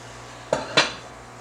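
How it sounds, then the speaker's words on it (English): Two sharp metallic clanks of a baking pan being handled while greased with butter for homemade cinnamon rolls, close and distinct, with a short ring after the second. "I'm gonna go ahead and grease the pan so I would be able to put these in here"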